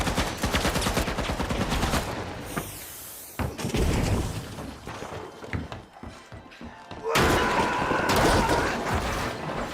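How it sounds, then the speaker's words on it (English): Loud bursts of gunfire, including a sniper, fill a shooter game match in The Finals, with dense rapid shots, booming impacts and brief quieter gaps in between. "I cannot see where I'm getting shot from. Oh, it's a sniper."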